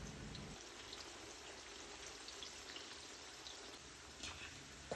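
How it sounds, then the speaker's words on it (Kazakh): Carrots fry in hot oil with a faint, continuous crackling sizzle and scattered small pops, quiet and steady with no voices. "Қызып тұрған майда сәбізді қып-қызыл етіп қуырып аламыз."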